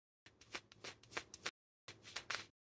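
Tarot cards being shuffled by hand in two close bursts of riffling and flicking, separated by a brief pause, with no talk.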